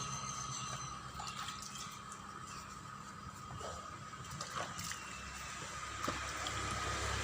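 Water runs and splashes over a lawn mower being washed after use, a low continuous wash of trickling and spattering at moderate distance. A few faint knocks come through the water, and there is no talking.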